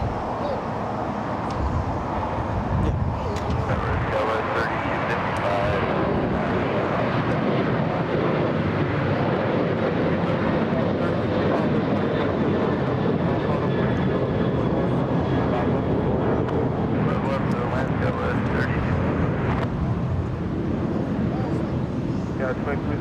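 A jet airliner takes off from runway 25 right at LAX, a steady loud roar of engines holding throughout, with radio talk from air traffic control heard over it.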